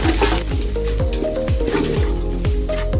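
Thinly cut carrots frying with eggs in hot oil, a loud, close, continuous sizzle with rhythmic scraping and stirring strokes roughly every half second, no talk.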